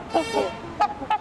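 Trumpeter swans honk in a short burst of several loud, nasal, horn-like calls close by, overlapping in quick succession.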